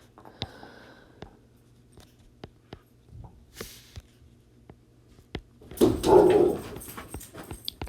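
Dogs barking and whimpering at a squirrel on a back porch, a few short sharp bursts scattered through mostly quiet indoor room tone, with a louder cluster of barks toward the end.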